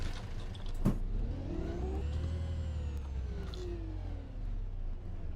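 An Enviro E200 bus engine idles and revs in the OMSI 2 simulator, a steady mid-pitched drone with a low rumble, rising and falling as it revs and whirs, heard alone and fairly close.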